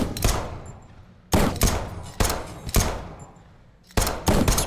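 An SMG fires in Arcticide, a post-apocalyptic arctic shooter game, in about five loud, close bursts of rapid shots separated by short pauses, each trailing off into a brief decay.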